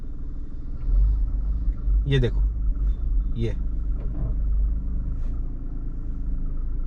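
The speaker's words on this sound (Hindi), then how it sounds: "ये गाड़ी का बाइटिंग पॉइंट है जहां पे मेरी गाड़ी स्ट्रगल करने लगती है आगे बढ़ने के लिए।" A car's engine rumbles low and steady while held at the half-clutch biting point, straining slightly under load, with someone briefly speaking over it.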